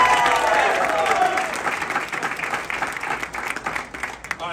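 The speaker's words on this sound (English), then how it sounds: "Huge round of applause for Primo." A large outdoor crowd applauds and cheers for a team member during the introduction of the 2022 US Air Force Thunderbirds demonstration squadron, a loud dense wash of clapping that gradually thins toward the end.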